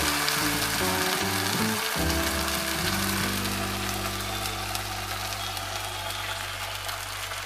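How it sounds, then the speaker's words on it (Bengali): Spice paste from the mixer poured into browned fried onions in a pan, with a loud, dense sizzle and crackle that stays steady throughout, close up, over a brief low rumble at the start. "এবারে আমি এই যে মিক্সির মশলাটা এটা ঢেলে দেবো"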